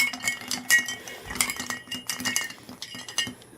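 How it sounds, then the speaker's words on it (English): A cocktail stirred with ice in a glass, rapid bright clinking and rattling of cubes against the glass and spoon, close and continuous in quick irregular bursts. "Now I'm going to give it a quick stir here, just to melt the ice just a little bit."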